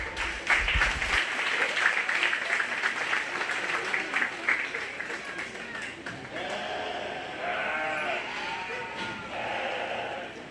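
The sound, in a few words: crowd applauding at sheep show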